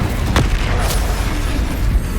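Spellcasting combat in the video game Hogwarts Legacy: a booming, fiery burst with sharp crackling flashes, loud and close, rumbling steadily throughout without any talking.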